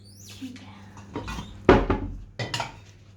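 A cooking pot set down on a home kitchen stove top, a sharp metallic clank with a rattling ring-out, followed by another clatter, while people talk nearby.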